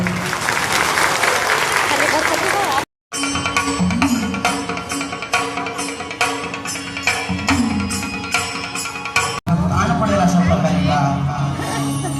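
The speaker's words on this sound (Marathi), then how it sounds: "जोरात एकदा टाळी वाजवूया" Loud, sustained applause from an audience at a village temple fair pavilion during a folk balladeer's evening performance, dense clapping filling the whole stretch with a brief cut near the start, a few shouts and crowd murmur mixed in.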